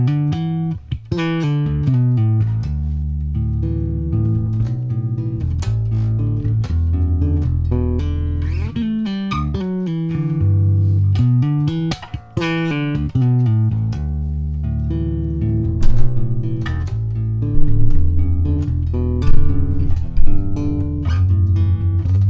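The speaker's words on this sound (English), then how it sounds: "So I'm going to play a little chord melody so you can kind of feel for how it sings" A Fender Squier '70s Precision Bass played chord-melody style with the tone rolled up, sustained harmonic chords ringing one after another at a steady, fairly loud level with no talking.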